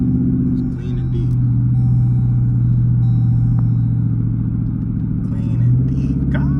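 A straight-piped 2014 Jeep Grand Cherokee Overland with the Hemi V8 rumbles at a steady, deep idle close by, its low drone continuous throughout with a slight swell near the end and faint voices beneath.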